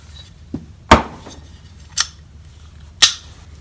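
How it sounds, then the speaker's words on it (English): A rifle's pivot pin is worked back and forth, giving four sharp metallic clicks and knocks spaced irregularly, close and fairly loud, with no talking. "Just work that pin back and forth"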